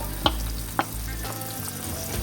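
Chopped onions hitting hot oil in a pan for chicken karahi, a steady close sizzle with two sharp clicks of utensils near the start.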